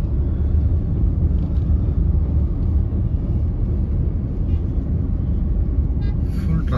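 Dense traffic backed up on a side road after a car accident, a continuous heavy rumble of engines and road noise close by, steady throughout with no clear individual passes.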